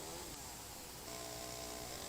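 A chainsaw runs at a continuous high-revving buzz, trimming the ends of wooden tool-rack legs on a partially assembled rack at an outdoor log cabin workshop; loud, steady and uninterrupted, with no voices.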